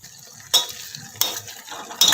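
Cooked sweet potato slices are stirred in a pan, with three sharp scraping strokes of a utensil against the metal over a soft background sizzle.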